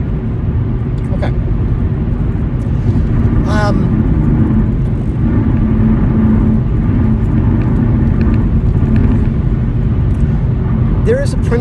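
Steady road and engine rumble from inside a moving car, continuous and loud throughout, with faint intermittent squeaks and rattles over it.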